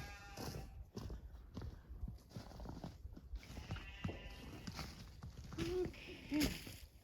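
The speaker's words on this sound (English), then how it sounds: "And there's all the pigs eating." Pigs feeding together on a farm in the first snow of the year, in western Washington, make a busy mix of crunching, chomping and shuffling, with a couple of short grunting or squealing calls near the end.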